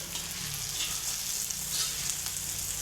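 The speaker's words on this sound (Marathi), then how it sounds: "आता आपण ती गवार यामध्ये टाकणार आहोत।" Cluster beans frying with onions and green chillies in a pan, a continuous loud sizzle and crackle held steady throughout, close up with a low hum underneath.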